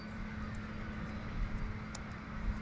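A Shovelhead chopper engine with a Mikuni carburetor idles steadily, a continuous low rumble that holds an even level throughout with no talking over it.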